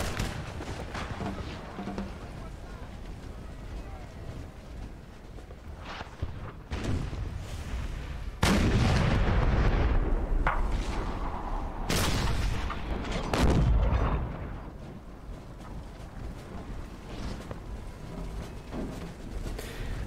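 Artillery fire in the Napoleon: Total War video game, a series of heavy booms and rumbling volleys rising to a loud sustained barrage midway, then easing back to scattered distant shots.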